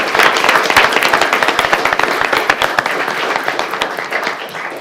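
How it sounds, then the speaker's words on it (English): Audience applause fills the room at the Oldsmar city council meeting: a dense, steady burst of close hand clapping that gradually thins toward the end. "So, round of applause."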